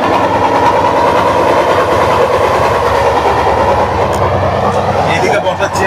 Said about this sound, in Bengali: ট্রেনের আওয়াজটা শুধু শুনুন।